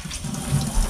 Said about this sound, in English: we do have running water here in the sink